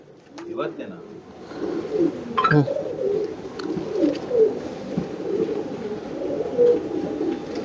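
Racing pigeon cooing near the microphone in soft, repeated throaty bursts, with people talking over it and a few brief flutters or knocks.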